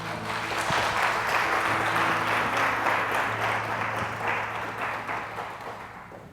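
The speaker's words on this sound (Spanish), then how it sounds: "Si usted lo espera, dele el aplauso." A church congregation applauds during a Spanish-language sermon. Sustained, dense clapping comes from many hands and slowly fades toward the end, with no talk.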